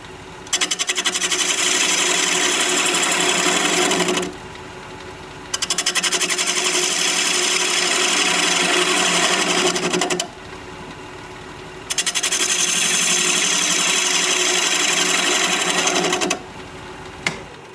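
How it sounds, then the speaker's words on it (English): Wood lathe turning a hollow-bottomed bowl at 700 RPM with a 1/2 inch bowl gouge, a loud steady scraping cut in three long passes separated by short pauses where only the motor hum remains. "we're going to be turning at 700 RPM. 1/2 inch bowl gouge"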